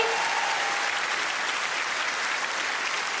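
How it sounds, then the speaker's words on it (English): An audience at a Sarah Millican stand-up comedy show applauds steadily, a dense sustained clapping that holds at full strength throughout without speech on top. "Round of applause for the fantastic lady."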